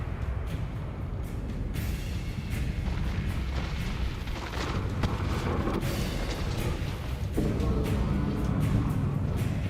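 Bombarda spell blasts in the Hogwarts Legacy video game boom repeatedly amid continuous rumbling combat noise, with several sharp impacts standing out over a dense, loud backdrop.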